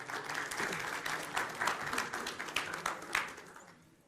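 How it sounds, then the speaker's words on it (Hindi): Studio audience applause welcoming two participants onto a Hindi TV debate show, dense and steady clapping that fills about four seconds before tapering off at the end. "तालियों के साथ स्वागत कीजिए अगले 2 पार्टिसिपेंट्स का"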